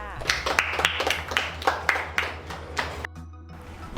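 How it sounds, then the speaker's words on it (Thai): Classmates in a school classroom applaud a newly chosen class leader with a burst of close, sharp hand claps that stops abruptly near the end, with voices mixed in. "ขอเสียงปรบมือหน่อยค่ะ"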